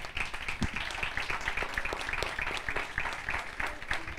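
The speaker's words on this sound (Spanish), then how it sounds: "Sí, un aplauso." Audience applause at a festival interview with film actors, steady dense clapping from a crowd held at an even level throughout, with no distinct voices over it.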